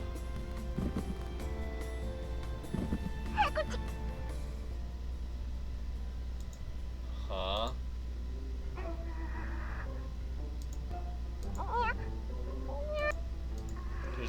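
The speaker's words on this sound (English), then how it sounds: "Oh, it's just a cat, huh?" A cat in the NEKOPARA visual novel game, found in a moving box, meows several times at intervals. The meows are clear and close over a steady low background hum.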